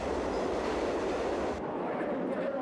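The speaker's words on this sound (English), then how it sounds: "The train was due to arrive at the station in less than a minute." Subway train arriving at a station platform, a loud continuous rumble and roar of wheels on rail that drops off sharply partway through, leaving a lower steady rumble.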